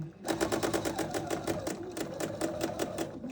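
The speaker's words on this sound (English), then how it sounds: "I'm going to sew down, needle down again, turn 90 degrees, and sew all the way off." A sewing machine stitches quilt fabric for a quilt-along, running steadily with rapid even needle strokes that continue close and clear without pause, with no talking over it.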